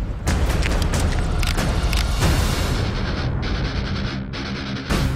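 Loud, dense booming blast from a movie scene, a roaring gunfire-like burst that fills the whole stretch and stays heavy throughout, with no talking.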